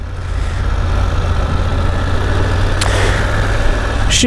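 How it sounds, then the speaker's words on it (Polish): A BMW F850 GS two-cylinder motorcycle engine idles loudly and close with a steady low rumble and a slight rattly clatter, continuous and alone. "Praca silnika, słuchajcie, no trochę taka jakby tam ktoś paczkę gwoździ wrzucił"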